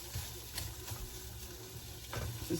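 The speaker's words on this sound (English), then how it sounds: "it's starting to fry a little" Food frying in a pan on a home stove, a close, soft, steady sizzle with occasional stirring scrapes and light clatter.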